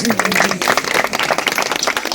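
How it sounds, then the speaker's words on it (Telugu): A congregation at a Christmas worship service in Telangana claps loudly and steadily, a dense wash of many hands with crowd noise and a faint voice underneath. "గట్టిగా చప్పట్లు కొట్టి ప్రభు"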